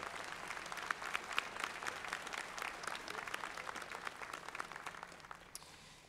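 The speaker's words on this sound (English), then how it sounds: "How about a round of applause for Chancellor Spinelli?" Soft but dense crowd applause at the 2018 Jefferson East Falls Campus graduate ceremony, continuous for several seconds and slowly fading toward the end.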